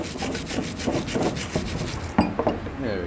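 Rust being scraped off an old Record vice in a workshop: steady rhythmic rasping strokes of metal on metal, close and fairly loud, ending with a few sharper scrapes and knocks.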